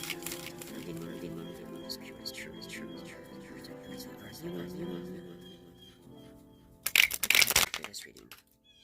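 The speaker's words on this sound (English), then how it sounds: "I'm gonna go ahead and pull a card real quick, see what we got for our energies moving forward" Tarot or oracle cards shuffle in quick riffling patter under a steady talking voice, ending in a louder, dense burst of card flicks near the close.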